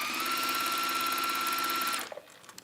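A sewing machine chain piecing fabric runs in a fast, steady, buzzing whir for about two seconds, close and loud, then stops abruptly, leaving a few faint clicks and handling sounds.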